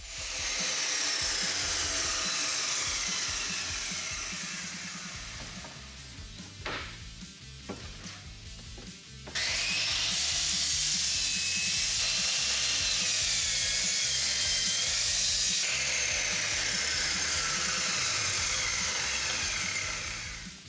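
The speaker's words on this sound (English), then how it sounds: "get them cut down on the miter saw" A miter saw fitted with a thin-kerf blade cuts wood in a home shop, giving a loud, sustained high whine that drops away briefly midway, then spins back up at full strength until the end.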